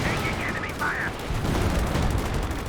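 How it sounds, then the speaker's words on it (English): Artillery counter-battery barrage in Company of Heroes 2, a dense, continuous rumble of gunfire and explosions booming throughout, with fainter tonal game sounds early on. "Got the counter barrage, I think. Counter battery coming down out the back there."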